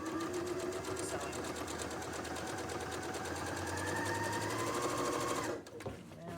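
A sewing machine stitches two layers of apron fabric in one continuous close, even run that stops abruptly near the end, with a voice speaking over the motor hum.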